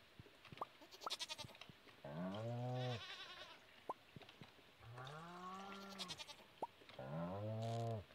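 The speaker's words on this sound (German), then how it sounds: "Oh, die Kuh ist aber sauer." An angry cow in the Stardew Valley farming game lets out three drawn-out bleating moos, separated by sharp clicks and quiet gaps.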